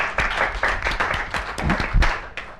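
Lively audience applause greets speaker Hansen Clarke at a political dialogue event, with crisp, close claps in a steady irregular patter across the whole span and no talking over it.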